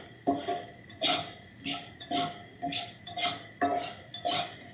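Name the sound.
onions sizzling in a pan being stirred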